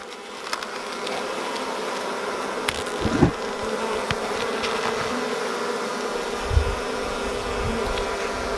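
A dense, steady hum of many honeybees buzzing on a hive frame, close by and continuous, with a few faint knocks and clicks.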